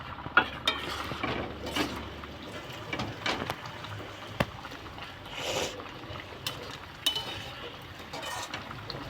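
Fish pieces go into a frying pan with water, bringing irregular sizzling, splashing and scraping clatter from the pan, with a few sharper knocks over a steady crackling bed.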